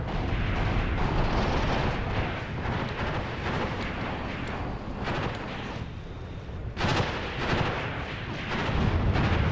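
Tank gun shots fired at an enemy tank in a video game, with repeated heavy booming blasts over a dense, continuous rumble of battle noise, one especially sharp report standing out near the middle.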